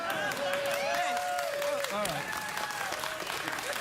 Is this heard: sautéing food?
no